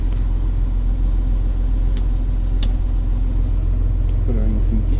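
A John Deere 6810 tractor engine runs steadily after starting, a loud continuous low diesel rumble heard close up, with brief voices over it.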